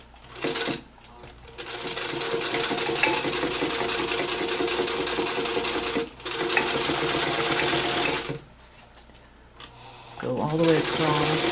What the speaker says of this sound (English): what you're going to do is sew just this bottom stitch first